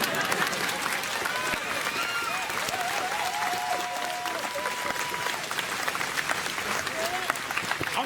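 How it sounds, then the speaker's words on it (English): Protest crowd outside the Minnesota governor's residence in St. Paul claps steadily for about eight seconds, a dense even patter under scattered shouts and voices, with no pause. "you can clap to that"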